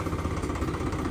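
A tractor engine runs in a steady low throbbing idle, a short continuous rumble at moderate loudness with no talk.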